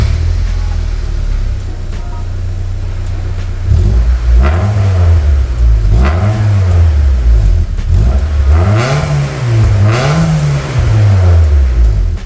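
A car engine idles, then revs repeatedly in a series of rising and falling throttle blips, loud and close, with no one speaking.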